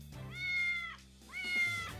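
Cats at a humane society shelter meowing, two long drawn-out meows in succession, clear and fairly close, with no talking over them.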